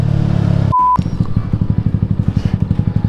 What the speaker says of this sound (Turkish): Galiba büyük bir ihtimal geçerim ve bayağı bir egzoz sesi çıkacak.